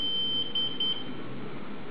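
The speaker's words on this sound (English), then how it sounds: "Alarm is set off, it's time for a shower." An electronic buzzer on a PIC 16F877A E-Blocks alarm clock sounds a steady high-pitched tone in short pulses, close and clear, with no talking.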